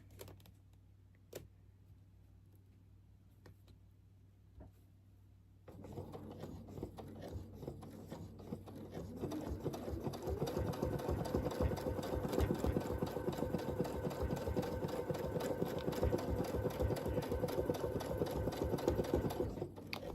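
A sewing machine stitches around a Churn Dash mini quilt. After a quiet opening with a single tap, it starts a continuous rapid stitching hum that grows louder and steadier partway through and runs to the end, with no voices.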